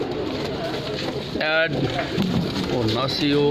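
Pigeons coo in short soft calls close by while someone talks over them and a wind-like background noise runs underneath.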